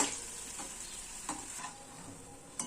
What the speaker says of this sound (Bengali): এইভাবেই আমি সব বড়াগুলো ভেজে নেবো